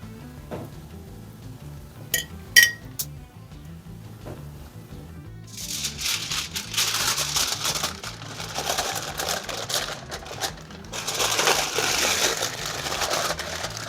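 Aluminium foil being crinkled over tandoori chicken, beginning with a few sharp isolated taps, then giving way to long bursts of bright crackling rustle, close and uninterrupted by talk.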